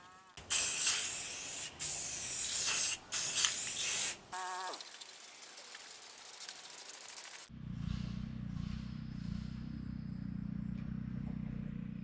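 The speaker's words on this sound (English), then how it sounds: "I sprayed a white primer so that the next layers of paint would have a nice surface to hang out on." Aerosol spray can hissing white primer onto a skateboard deck in several loud bursts of about a second or two each, then quieter handling sounds and a low steady hum.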